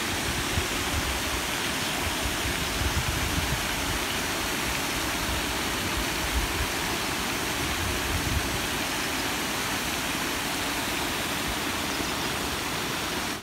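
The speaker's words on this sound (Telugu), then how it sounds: "సో ఇట్లా వాటర్ పడుతున్నాయి కదా పైనుంచి, దాన్ని మత్తడి అంటారంట." Water pouring steadily over the weir of a village lake, a dense, continuous roar of falling water, close and loud with no breaks.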